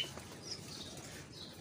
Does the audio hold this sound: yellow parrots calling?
yes